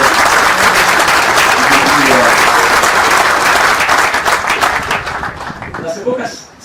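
Sustained audience applause fills a large hall at the official opening of the EXPOSOFO 2022 agricultural exhibition, loud and dense before thinning and fading toward the end.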